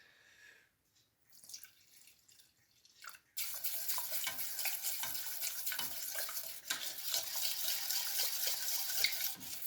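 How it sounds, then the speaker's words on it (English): A whisk works through a thick cheese sauce in a pan, with a steady wet scraping and bubbling swish close by that starts after a quiet opening and carries on without talk. "Give it a good whisk"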